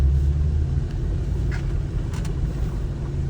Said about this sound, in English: the combined weight of the Bronco and the Toyota was just too much to ask of the tires and was just spinning